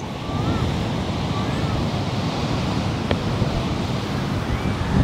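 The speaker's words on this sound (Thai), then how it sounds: "วันนี้ลมแรงนะครับสังเกตดูคลื่นดูขนาดคลื่นนะครับคลื่นจะสูงเป็นพิเศษวันนี้" Strong wind roars across Malibu beach while high surf crashes and rumbles, a loud, continuous blustery wash with heavy buffeting against the microphone and no voices.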